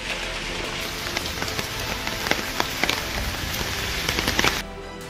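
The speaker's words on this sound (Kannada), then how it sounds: "ರಾಜ್ಯದ ಕರಾವಳಿ ಮತ್ತು ಪಶ್ಚಿಮ ಘಟ್ಟದಲ್ಲಿ ಮಳೆ ಆರ್ಭಟ ಕಡಿಮೆಯಾಗ್ತಿಲ್ಲ, ಅಬ್ಬರ ನಿಲ್ಲುತ್ತಿಲ್ಲ." Heavy monsoon rain on the coast and Western Ghats of Karnataka hisses as a dense, steady wash with scattered sharper drops and patters, cutting off abruptly just before the end.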